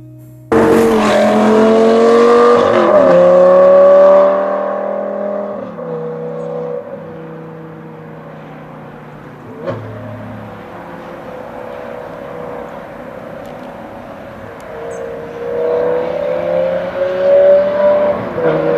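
A supercar engine on a mountain road drive, loud revving that rises sharply, then eases into a long sustained drone with shifting pitch and a swelling pull near the end, no speech.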